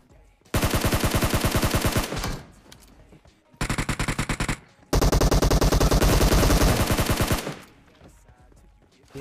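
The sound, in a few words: M249 machine gun firing at bots in a video game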